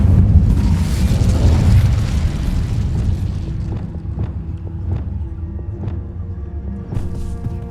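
In a Harry Potter video game, an Incendio fire spell blasts with a loud booming burst that rumbles and fades, followed by a series of sharp, evenly spaced knocks or pops.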